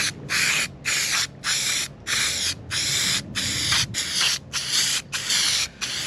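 Black dye sprays onto faded Ferrari 348 carpets in short, close hissing bursts, about ten quick pumps with brief gaps between them and no talk.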